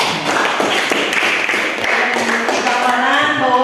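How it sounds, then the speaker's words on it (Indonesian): A classroom of students claps in a steady, fairly loud patter of many hands, with a few voices rising over the clapping toward the end. "tepuk tangan untuk kalian semua"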